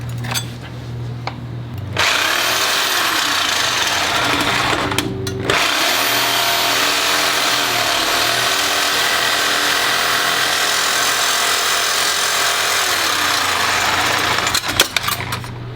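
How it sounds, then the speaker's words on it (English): Reciprocating saw (Sawzall) cutting through the old, corroded exhaust downpipe on an Audi RS4, a loud, steady buzzing rasp running nearly nonstop with a brief pause, close to the microphone, no speech. "So I wound up taking a Sawzall to it, and you can see, just cut this piece off here."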